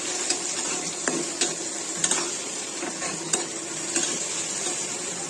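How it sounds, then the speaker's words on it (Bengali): Hilsa fish head fries steadily in a hot pan with turmeric, coriander and salt while a utensil stirs and scrapes, with several light clinks against the metal. "মাছটাকে আরেকটু ভাজা ভাজা করে নেব"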